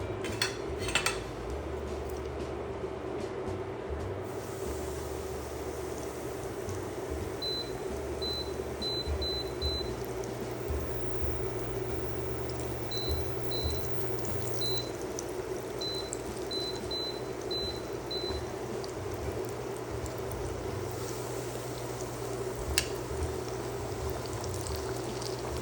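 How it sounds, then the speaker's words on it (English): Pork chops frying in oil heated to 350 degrees, a continuous low sizzle and bubbling throughout, with faint intermittent electronic beeps in the middle and an occasional clink, no talk. "our oil is at 350 degrees. And so I'm gonna go ahead and put my pork chops in there."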